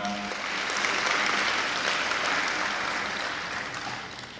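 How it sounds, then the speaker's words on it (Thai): A Thai evening event audience breaks into steady, dense applause as a judge is introduced, a continuous wash of clapping that holds evenly before tapering slightly at the end. "ขอเสียงปรบมือให้กับคุณปวีนาหงสกุลค่ะ"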